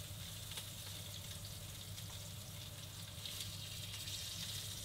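Tuna searing in a hot oiled pan gives a steady, quiet sizzle and crackle that holds unbroken throughout, close by, with no talk.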